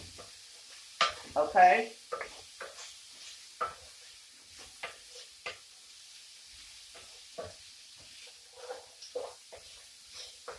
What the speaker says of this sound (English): I'm going to saute these vegetables and get them soft.